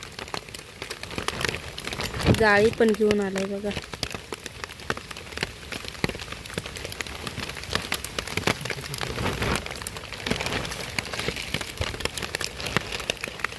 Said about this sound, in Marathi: आणि पाऊस तर लई पडतोय